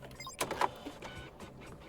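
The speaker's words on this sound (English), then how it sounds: "If there's not one in this room, we'll drop down to that one. There is one." Printer in the video game Deceive Inc whirring and clicking briefly, with a few short mechanical bursts over faint game background.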